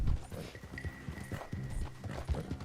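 Horse hooves galloping in the video game Red Dead Online: rapid, steady clip-clop beats close up, with rustling and a faint tone in the background.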